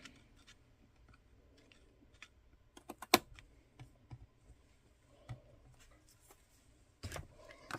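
Scissors snip ribbon ends on a folded paper card, a few sharp, close clicks scattered among quiet handling rustles, with one louder snip near the middle and another toward the end.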